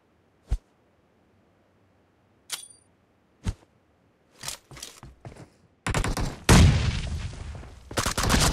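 PUBG Mobile team deathmatch gunfire, with a few isolated single shots, then scattered shots building into loud sustained bursts of rapid automatic fire with booming reports.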